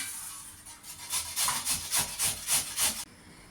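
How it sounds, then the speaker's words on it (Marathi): A pumpkin cut into pieces is grated by hand, giving about nine rhythmic, fairly close rasping strokes that grow louder and then stop abruptly, with no talking. "बघू शकता आता मी भोपळा किसून घेते"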